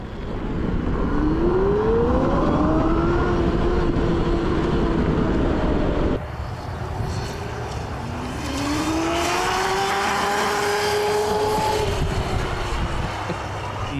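Overpowered converted electric bike ripping fast and throwing roost, a loud rising whine that sweeps up in pitch as it accelerates, buried in heavy wind rush, with no talking.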